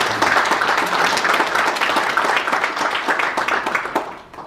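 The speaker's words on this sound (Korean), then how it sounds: "다시 한번 큰 박수를 보내주십니다" A conference audience in a hall breaks into dense, loud applause that holds steady for a few seconds before tapering off toward the end.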